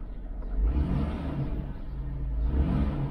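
A 2005 Chrysler van's engine runs steadily, a close, continuous low rumble with a faint whir on top and no talking.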